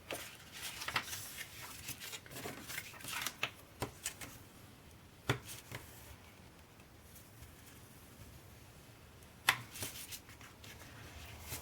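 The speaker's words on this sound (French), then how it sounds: "Et je vais faire mes plis." Paper being folded and creased by hand for a winter-themed scrapbook album page, a run of soft crinkles and sharp taps, close and quiet, with a few louder snaps spread across the clip.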